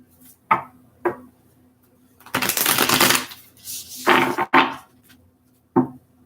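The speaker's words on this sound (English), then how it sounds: "just a couple more shuffles here for Scorpios" A tarot deck being shuffled by hand, close and crisp: short riffling bursts of card edges separated by brief taps, with one longer, louder shuffle in the middle and no talking.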